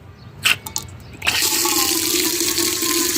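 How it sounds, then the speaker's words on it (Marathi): Water from a tap starts about a second in and then pours steadily into a bucket, a close and continuous hiss that follows a few knocks and clatters. "बकेटमध्ये मी पाणी भरून घेते"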